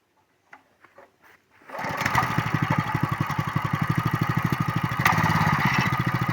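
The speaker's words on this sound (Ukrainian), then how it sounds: "зараз заведемо двигуна і щось трошки поколимо" A few pulls and knocks, then the small engine of a gear-driven log splitter sputters to life and runs at a fast, steady chug, loud and close.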